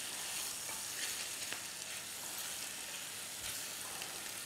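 Food sizzling in a frying pan as it is turned, in a dish seasoned with cinnamon and ginger: a dense, continuous, close crackling sizzle with small pops and no voices.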